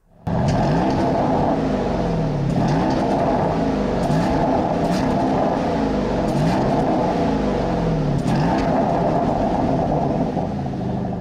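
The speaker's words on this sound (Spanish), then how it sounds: "tiene una nueva admisión, nuevas válvulas y un nuevo escape, lo que suena bastante bien" A 2024 Porsche Cayenne S engine, with new intake, valves and exhaust, idles and revs steadily with a deep exhaust rumble, loud and close, rising and falling a few times without pause.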